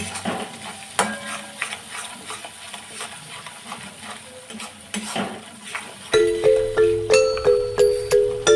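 Masala for a red potato dum curry fries and sizzles steadily in a pan while a spoon stirs and scrapes it, with clinks of metal on the pot and a brighter, rhythmic stirring stretch near the end.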